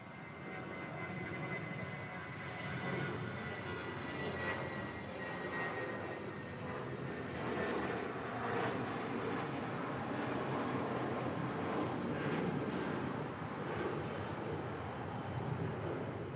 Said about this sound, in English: That is Spirit 1454 departing to Oakland on an A320